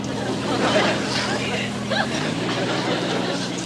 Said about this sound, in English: Stalled engines seem to be working all right now, McHale.